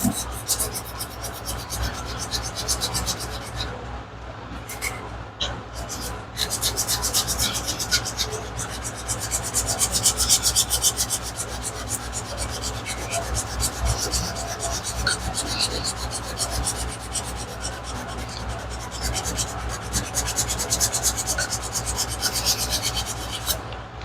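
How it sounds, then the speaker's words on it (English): Sandpaper is rubbed by hand across the center of a turned wooden bowl, making a continuous, close, rhythmic scratchy rasp that keeps going for the whole stretch with steady back-and-forth strokes. "Sand across the center there by hand."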